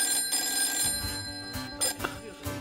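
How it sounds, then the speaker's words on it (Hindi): A telephone rings with repeated high electronic trilling tones over a low background hum, fairly close and clear, with no talking. "फोन किसका बज रहा है?"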